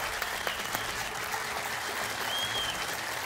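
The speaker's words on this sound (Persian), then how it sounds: "تشویق دوستا تشویق" Audience applause during a live Persian-language entertainment show, a steady wash of clapping held at a moderate, even level across the whole stretch, with no voices standing out.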